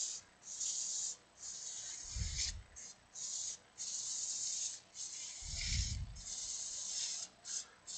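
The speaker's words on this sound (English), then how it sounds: "When it comes to making beads, sandpaper is your friend, at least for me." Sandpaper smoothing beads on a wood-turned beehive box, a faint rhythmic hissing rub in repeated strokes of about half a second, close up, with two low thumps in between and no talking.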